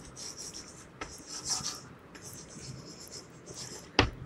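Chalk or marker strokes on a board during a class-6 maths lesson, short scratchy strokes in an uneven rhythm, near and moderately quiet, with one sharper tap near the end.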